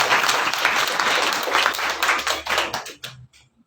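A church congregation at a Sunday service claps together in a loud burst of many hands that holds for about three seconds before tapering off into quiet.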